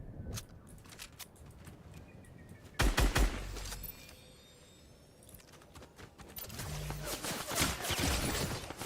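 Gunfire in Fortnite, with a loud burst of several rapid shots near the middle and scattered sharp cracks through the rest, set against busy in-game ambience.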